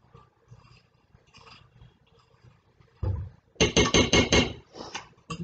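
A flax bread mixture is stirred in a bowl. After quieter rustling, a spoon knocks and scrapes against the bowl in a quick run of loud, rhythmic strokes close up.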